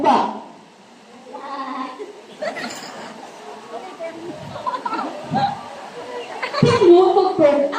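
Sheep bleat in short, wavering calls scattered through a Bible story for children, mixed under a narrator speaking Tagalog.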